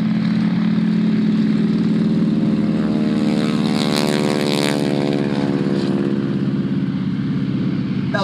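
SNJ and T-6 propeller warplanes take off at an airshow, a loud continuous radial-engine drone with a throaty buzzing roar that swells and holds steady throughout, no voices.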